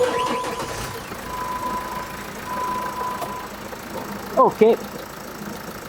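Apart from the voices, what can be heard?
Jeep Wrangler engine starting and idling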